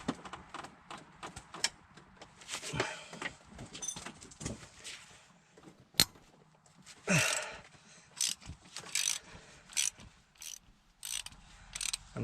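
Ratchet wrench clicking in short bursts while breaking loose 14 mm bolts on a Nissan Altima catalytic converter, with irregular metallic clicks, a sharp clank and scattered tool knocks close by, no talking.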